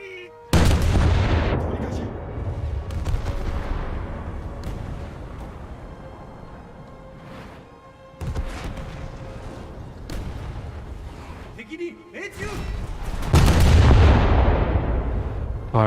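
Heavy naval gunfire in a ship battle video game, with loud booming cannon blasts at the start and again near the end, separated by rumbling, echoing stretches and scattered smaller shots.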